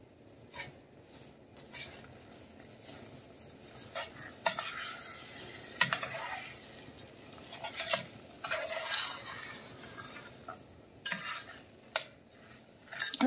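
Caramel icing ingredients stirred together in a pan on a stove, with a spoon scraping and clinking against the pan in steady strokes over a soft sizzle, close and fairly quiet, no talk.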